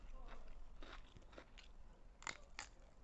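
Spicy seafood instant noodle salad with shrimp and squid is bitten and chewed up close, giving soft crunchy bites and a few sharper crackles in quick succession.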